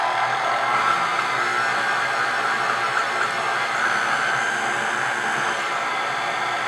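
An electric hand mixer runs steadily on low speed through dry cake batter ingredients of flour, sugar, salt and baking powder, a continuous even whir at close range with no talking.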